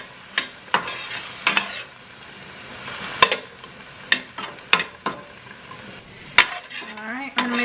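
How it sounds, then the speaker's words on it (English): Garlic sautés in a pan on medium heat, giving a soft steady sizzle with repeated sharp scrapes and clinks as a utensil stirs it, ending in a brief squeak. "Add our garlic in. We're gonna let this saute up"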